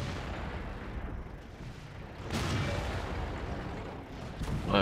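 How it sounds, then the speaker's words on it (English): Artillery shells land in a World of Tanks battle, a faint muffled boom and burst standing out against low game background noise, with another softer impact near the end. "Oh, artillery."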